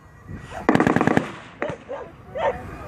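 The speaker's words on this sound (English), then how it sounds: "We've got a mortar battle going on. It's quite loud as well." Mortar fire during a World War 2 battle reenactment outdoors: a loud rapid burst of sharp reports, then a few single booms and cracks spaced apart, with no talking.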